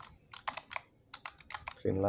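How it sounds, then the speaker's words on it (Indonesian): Taps on a phone's on-screen keyboard while entering text in Vim insert mode inside Termux, a short run of soft irregular clicks that ends as a low hum or voice rises at the end. "Gue misalnya mau ngetik, masuk ke mode insert."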